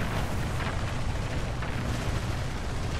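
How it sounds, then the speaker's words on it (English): Bomb dropped by a Lancaster bomber in the War Thunder combat game bursts into a dense, sustained rumbling blast, a heavy continuous roar of explosion noise with no talk over it. "He's going to bomb, but he misses badly."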